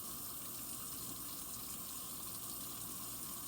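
Running tap water splashes steadily into a sink while pet food bowls are washed with soap and a sponge, a continuous close gush with no talking.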